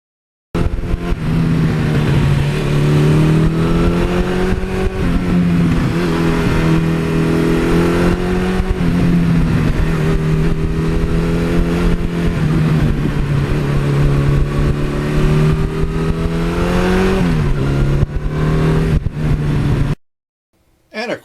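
A 1982 Suzuki GS1100E motorcycle engine drones steadily while being ridden on the road, pitch swelling and dipping with throttle and gear changes, loud and close throughout with wind rush, cutting out briefly near the end.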